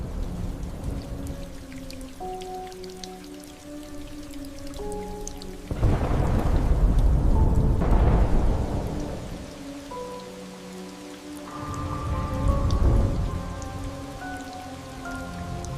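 Steady rain with rolling thunderstorm rumbles that swell twice into loud, broad roars over the downpour, layered under a soft sustained musical drone.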